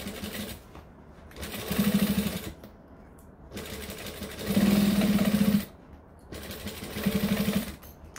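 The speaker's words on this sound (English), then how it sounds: "When we get to this corner, you want to go one thread into the turned corner and then just continue on." A sewing machine stitches a tote bag around a turned corner in three separate loud bursts of steady, rapid needle hum, with pauses between runs and no talk.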